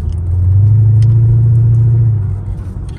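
A supercharged 5.5-litre Mercedes W211 engine revs while driving, a loud deep rumble that swells and holds for a couple of seconds before easing back, heard alone from inside the car.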